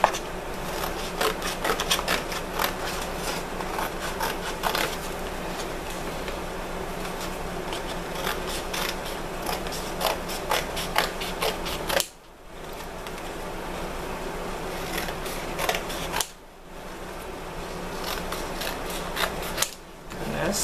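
Scissors or a blade rasp through fabric to cut off a seam, a rapid train of close scratchy snips broken by two short pauses.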